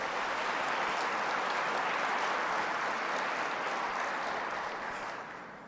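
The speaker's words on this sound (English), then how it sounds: "Let's give them a round of applause also." Dense, steady applause from the audience at a state agriculture address, a full roomful of clapping that holds strong and then fades toward the end.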